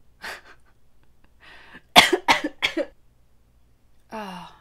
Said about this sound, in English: Serves me right for having a coughing fit while trying to be funny.